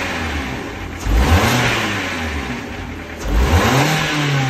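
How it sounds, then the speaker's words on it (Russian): The engine of a restyled Ford Focus 2 is revved loudly at close range during chip tuning. Two clear throttle blips rise from a steady idle and then fall back. "Нажми пару раз газ. Посмотри, как набирает обороты."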